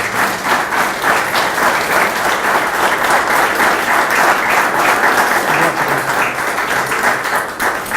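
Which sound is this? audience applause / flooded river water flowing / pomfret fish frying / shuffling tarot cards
audience applause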